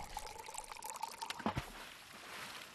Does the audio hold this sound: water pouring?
yes